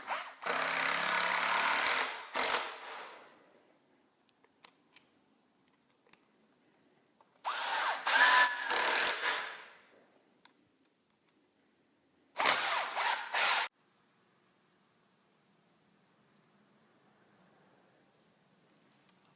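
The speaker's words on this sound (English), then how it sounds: "we want to screw down through here with 4 screws" A power drill drives screws down through a wood stud wall's top plate at a framing corner, in three separate loud bursts of whirring lasting one to two seconds each, with quiet pauses between them.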